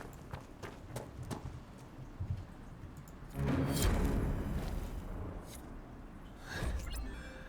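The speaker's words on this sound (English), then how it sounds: "Mount the horse." Horse hooves clatter in Dragon Age: Inquisition as a mount picks up speed, a steady rhythmic clip-clop that swells louder midway over game ambience, with no talk over it.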